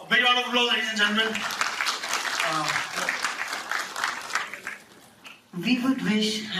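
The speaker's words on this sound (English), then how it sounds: "A big round of applause, ladies and gentlemen." Applause from the audience at a women's awards event, clapping running beneath a voice over a loudspeaker that begins and ends the stretch.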